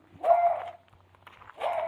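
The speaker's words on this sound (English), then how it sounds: "There's that dog." A dog barks twice at close range, two strong separate barks with a short gap between them, and nothing else prominent around them.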